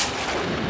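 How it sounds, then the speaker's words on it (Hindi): A single loud, close gunshot with a broad booming body and a lingering roll of echo, heard alone in a dramatic night scene. "ये तो गोली की आवाज है रोहित।"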